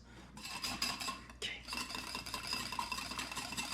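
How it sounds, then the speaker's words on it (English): Mayonnaise, egg, mustard and Worcestershire sauce are whisked in a small bowl for crab cakes, giving quick, steady metallic clinking and swishing close up, with one brief pause. "in a small bowl, whisk together the mayo, the egg, the mustard, the Worcestershire sauce, and season with some salt and pepper"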